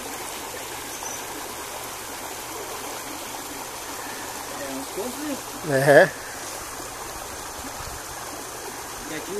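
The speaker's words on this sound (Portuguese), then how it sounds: "Nem parecia uma coisinha tão pequenininha, mas como tinha água aí dentro. Quanta água já saiu?" Water streams steadily out of a clogged pipe in an opened well, a continuous soft rushing flow with a brief louder gurgle midway and short spoken remarks over it.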